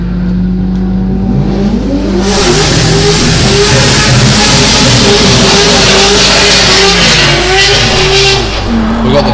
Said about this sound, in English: We've got the Darren Hart Corolla on screen making its way up the top of the mountain.